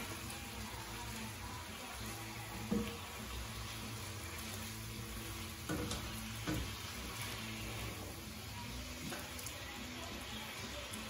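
Chicken pieces frying in a pan, a quiet, steady sizzle with occasional utensil knocks and shifting sounds, fairly faint and continuous.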